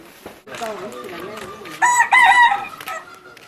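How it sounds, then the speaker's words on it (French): A rooster crows nearby in Patani village near Ziro, its drawn-out cock-a-doodle-doo rising loud and clear over quieter background sounds. "Comme partout, le coq se fait entendre."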